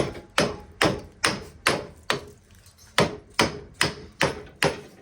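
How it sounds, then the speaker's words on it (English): Steady hammer strikes on metal, about two per second, sharp and close, each ringing briefly before the next blow, flattening sharp edges on a dismantled transformer. "Hammer those flat."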